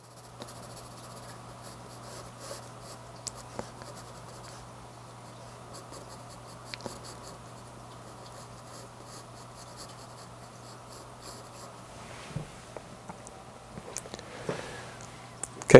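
Pencil hatching strokes on paper while drawing bird feathers, a long run of soft, close, rapid scratchy strokes in a steady rhythm, growing a little busier near the end.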